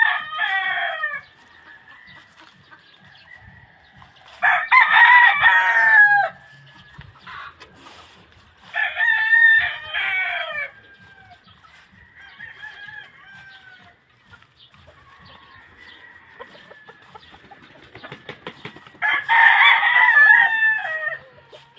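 Roosters crow loudly several times in breeding pens, each call long and drawn out, with soft hen clucking in the quieter stretches between.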